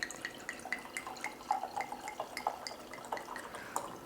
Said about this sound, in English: Let's go ahead and get this glass poured.